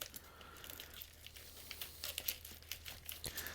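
Close crinkling and tearing as a comic book mailer package is cut and opened, a run of uneven crackly rustles that grows busier toward the end, with no talking.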